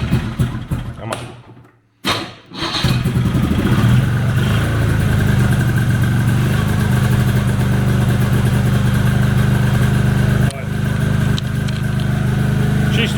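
A 1987 De Tomaso Pantera engine cranks with a couple of sputters, then catches and settles into a loud, steady idle that runs on close by.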